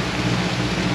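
Heavy rain from a thunderstorm at sea, pounding loud and steady as a dense wash of noise around a sailing catamaran, with no voices.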